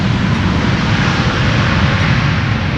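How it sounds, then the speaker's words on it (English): A jet airliner roars loudly and steadily as it lands at Amsterdam Schiphol in a crosswind with its thrust reversers deployed, a dense, continuous rumble with no voices. "The reversers did get deployed after all. just a bit late."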